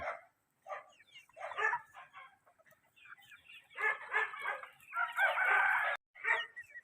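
Backyard chickens and an Ansdrolop rooster at their coop, several loud clucking bursts and a drawn-out crow near the end, close and clear, separated by brief silences.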